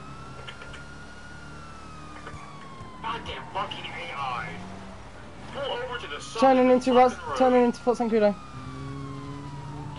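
A police car siren in a roleplay driving video game wails and sweeps, growing louder and more urgent, while a voice speaks over radio-style chatter.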